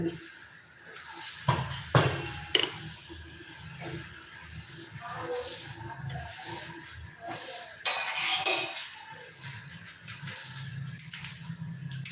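Mustard seeds crackle and sizzle in a little hot oil in a wok-like pan while tempering green gram sundal, a steady hiss with a few sharper pops near the start and again midway.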